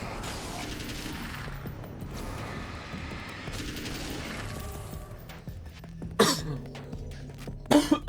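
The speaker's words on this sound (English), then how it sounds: "Cough, cough, cough." A person coughs in a couple of short, abrupt bursts near the end, cutting through quieter ambient sound from the video game Alan Wake's American Nightmare.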